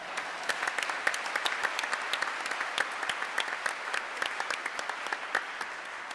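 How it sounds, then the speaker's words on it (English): A courtroom audience at a chief justice investiture ceremony gives a sustained round of applause, many hands clapping in a dense, even patter at moderate volume, heard alone without talk. "So why don't we give all of us a round of applause?"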